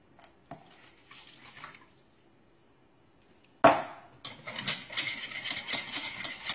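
Water runs into a bowl of konjac flour mixture, first a faint trickle, then after a pause a sudden louder splash and steady pouring close by.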